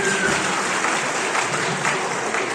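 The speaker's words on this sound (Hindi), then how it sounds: "समिति के अध्यक्ष सम्माननीय जयपाल सिंह जी, उनकी जोरदार तालियां बजा दें पूरी आयोजन समिति के लिए," A crowd at a community event in Chhindwara honouring talented children claps in steady, continuous applause at a moderate distance, with no voices standing out.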